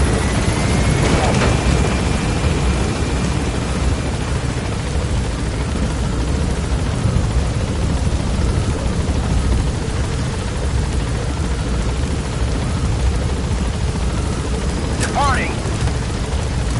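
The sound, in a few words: helicopter taking off in the video game Metal Gear Solid 5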